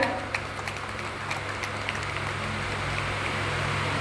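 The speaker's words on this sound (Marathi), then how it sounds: "नानांसाठी एकदा जोरदार टाळ्या होत्या" Faint, soft clapping from an audience at an award ceremony, a thin patter of hands under a steady low hum, distant and quiet throughout.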